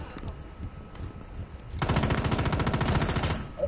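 Gunfire in the video game Rainbow Six Siege: a long, loud automatic burst of rapid, evenly spaced shots begins partway through and hammers on to the end, after quieter game sounds.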